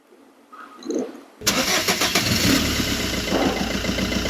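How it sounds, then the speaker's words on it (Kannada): Car engine cranking and catching after some quiet handling noises, then settling into a loud, steady close-up idle. "ನೋಡಿ, ಇವಾಗ ಗಾಡಿ ಸ್ಟಾರ್ಟ್ ಮಾಡಿ ಆನ್ ಮಾಡೋಕ್ಕೆ ಹೇಳ್ತೀವಿ."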